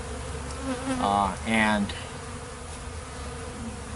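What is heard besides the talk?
bees buzzing at sugar water feeders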